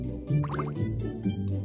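Cartoonish game water effect rinsing soap off a letter: a short burst of gurgling, dripping splashes and bubbly plops over a soft musical backing, fairly close and moderate in level.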